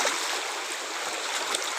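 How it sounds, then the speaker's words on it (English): Water gushing from a leaking pipe into a small river, a steady close rush of splashing with no pauses. "Water is coming from pipe."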